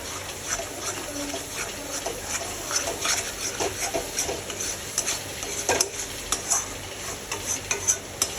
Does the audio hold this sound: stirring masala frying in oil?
yes